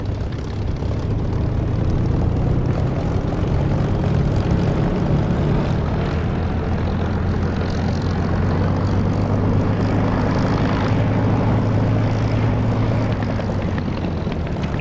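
A simulated aircraft powers up for takeoff in the DCS flight combat game, a loud, constant engine drone with a low humming tone that stays unbroken and free of speech.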